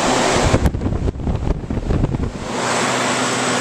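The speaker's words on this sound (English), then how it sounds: "So, the compressor is kicked in." A new SAC 5-ton air-cooled chiller running on 230 volts after its compressor kicks in, giving a loud, steady broadband roar and rush with some uneven fluttering in the middle before settling into an even hum.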